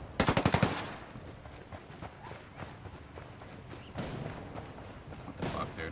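A rapid burst of automatic gunfire from a gun in Ghost Recon Wildlands' Ghost War PvP mode opens the clip, followed by scattered, fainter shots and game noise under a player's talk.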